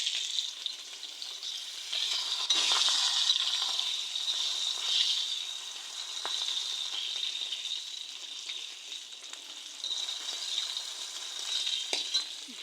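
Fish sizzling steadily in hot oil in a pan, a continuous loud bright frying hiss throughout with small crackles and occasional soft stirring or flipping clatter, no talking.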